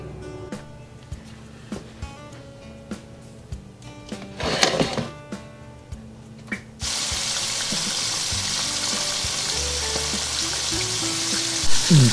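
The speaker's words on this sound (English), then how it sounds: "I've coated all the riblets with flour, and now it's ready to be fried." Flour-coated pork riblets fry in hot oil, starting with light crackles and a brief burst of sizzle, then breaking into a loud, continuous close-up hiss of bubbling oil.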